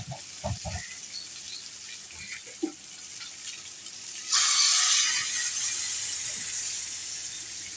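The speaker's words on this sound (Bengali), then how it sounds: "পানিটা দিয়ে দিব" Water poured into a pan of braised chicken and potatoes in a home kitchen, a steady close rush of liquid starting midway and carrying on loud, easing slightly toward the end, with scattered clinks of the pan before it.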